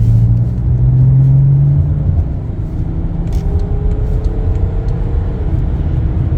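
A BMW F10 with an N57N diesel engine and 356,000 km hums and pulls harder as it speeds up on a highway acceleration lane, with a steady low rumble of road noise throughout.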